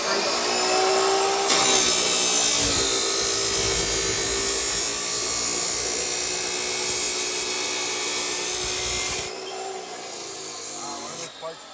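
A power cutter slices through sheet metal while a hood exit is cut into a turbo Honda Civic's hood, throwing sparks: a loud, steady grinding whine runs for about nine seconds, then stops abruptly, leaving quieter shop noise.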